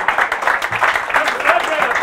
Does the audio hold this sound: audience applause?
yes